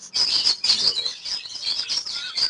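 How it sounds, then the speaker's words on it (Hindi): Pet parrot-type birds from a breeder pair, shown at a bird sale, chirp in quick, shrill, repeated bursts with a steady twittering rhythm. The birds are close and loud, with faint flapping and no voices. "देख लो लोग, ये वाले परिंदे भी उड़ा रहे हैं भाई।"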